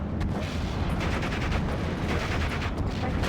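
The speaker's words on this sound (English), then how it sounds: "This was actually some big old artillery" Heavy artillery in the game Steel Division: Normandy 44 rumbles in a dense, continuous barrage of booms, deep and loud, with overlapping blasts and no pause.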